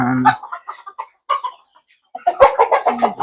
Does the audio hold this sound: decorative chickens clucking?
yes